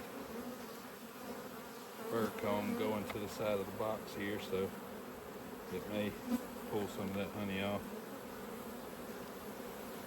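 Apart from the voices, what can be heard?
honey bees buzzing in a full hive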